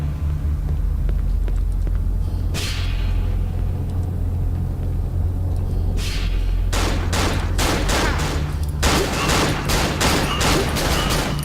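Enemies shoot guns in the horror game Cry of Fear, with a couple of isolated shots early, then a rapid volley of loud, close cracks in quick succession over a constant low rumble.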